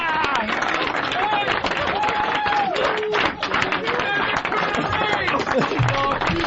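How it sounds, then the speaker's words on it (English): Applause and crowd noise roar through a studio amid heavy laughter, with people talking and shouting over the dense, continuous clapping. "A thunderous round of applause"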